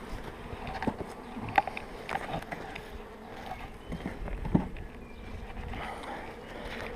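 Honeybees hum faintly around a hive during work on an expanding swarm, a low continuous buzz with scattered soft knocks and clicks close by.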